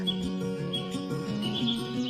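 Small bird chirps, a sparrow at its nest, sounding as repeated short high tweets over a steady tonal music bed in a children's story.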